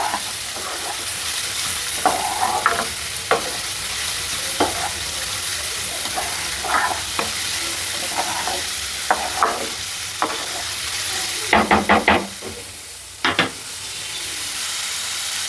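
Carrots stir-frying in a hot pan for egg fried rice give a steady sizzle, with a spatula scraping and tapping the pan in short bursts, heavier clattering stirs near the end; close, loud, no talking.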